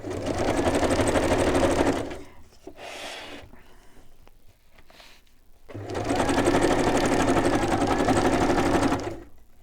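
Sewing machine running a zigzag stitch on fabric pieces, in two sustained loud whirring bursts with a quieter gap of handling noise between them.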